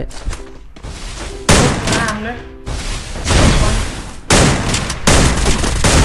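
Gunfire in the Free Fire mobile battle-royale game, loud bursts of shots and thumping impacts recurring through the clip amid dense game noise, with a player talking over it.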